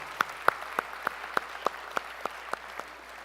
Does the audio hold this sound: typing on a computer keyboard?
no